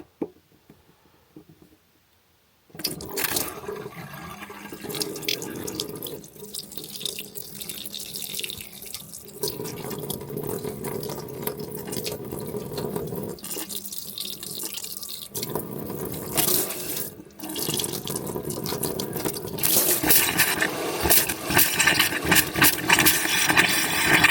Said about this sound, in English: Water is through the boiler.